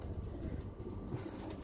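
Pigeons at a racing pigeon loft coo softly in a low murmur against steady background noise, a brief, continuous burble with no talk over it.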